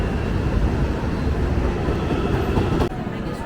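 A train rumbles steadily with a dense, loud roar of wheels and rails, continuous throughout, with a brief dip near the end.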